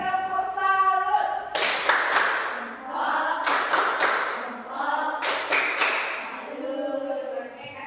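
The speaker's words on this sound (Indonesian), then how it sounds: "mari kita berikan tepuk salut untuk kelompok 1" An elementary school class performs a tepuk salut clapping routine, with three loud bursts of many hands clapping in patterned rhythm, separated by the children's chanting voices.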